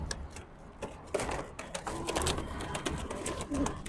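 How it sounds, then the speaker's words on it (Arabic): A red pouter pigeon coos in soft, repeated low calls close by, with faint clicking and rustling in the background. "ده فرد حمام نفاخ احمر"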